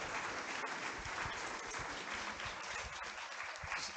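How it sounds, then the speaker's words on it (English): Audience applause for a museum at a history lecture, a sustained wash of many hands clapping at steady loudness throughout, with no talking over it. "And give the museum a round of applause."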